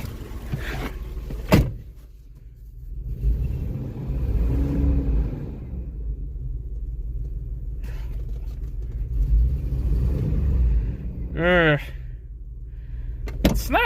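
Engine of a classic car at an auction idling and revving in low rumbling swells that rise and fall over several seconds, with a door or window noise and a short whine among the rumble, under a quiet voice.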